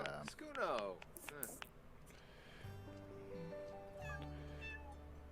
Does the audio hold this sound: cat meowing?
yes